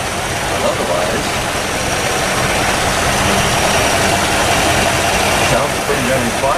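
A 1962 Chevy engine, parked for 35 years and freshly oil-changed, idles steadily with a dense, continuous rumble and hiss, loud and close throughout without any break.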